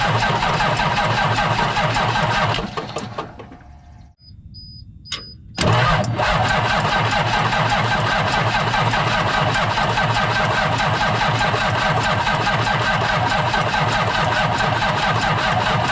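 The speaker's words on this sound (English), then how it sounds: "when I'm gonna crank this engine over, we should see fuel and air come out that right there" An engine on a large house pad is cranked repeatedly without starting, a loud steady grinding churn from the starter that drops out briefly midway and then resumes and carries on unbroken.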